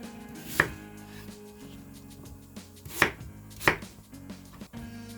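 Kitchen knife chopping an apple on a cutting board while preparing braised beef short ribs, giving a few separate sharp chops spaced a second or two apart against quiet background hum.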